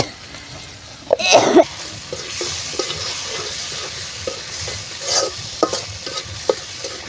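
Spices with turmeric and salt sizzle in a pan while a utensil scrapes and stirs them, starting with a loud burst of clatter followed by steady frying hiss and intermittent scraping strokes.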